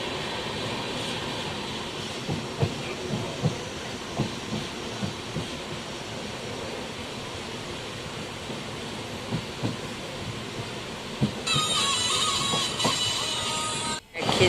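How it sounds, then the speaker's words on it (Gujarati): A second train runs alongside on the rail journey to Haridwar, a steady rumbling clatter with faint clicks throughout, and a brighter rushing hiss joins near the end as it passes close by. "બાજુમાં જો રેલગાડી બીજી છે."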